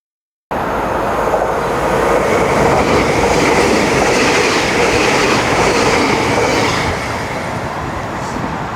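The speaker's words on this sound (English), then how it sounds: "That was the high-speed train coming through going to Hull" A loud high-speed train rushes through a station close by, a sustained roaring whoosh that holds steady for several seconds and then eases slightly.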